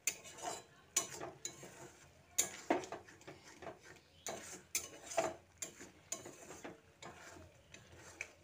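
Cabbage stirred with a little water in a pan, a spoon or spatula scraping and clattering in repeated strokes roughly every half second to second, close and fairly quiet with a faint simmer beneath.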